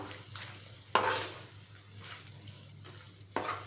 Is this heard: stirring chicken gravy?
yes